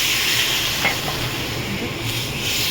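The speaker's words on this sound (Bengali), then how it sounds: "এবার আমি 1 কাপের মতো জল দিয়ে দিলাম" About a cup of water hits fish frying in spiced masala for a fish, eggplant and potato curry, giving a loud, continuous hiss and sizzle with faint stirring scrapes throughout.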